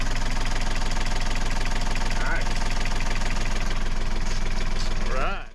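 A sailboat's diesel engine runs steadily during a freshwater flush of its exhaust system, a loud, continuous throbbing rumble close by, with water splashing faintly and a voice speaking near the end.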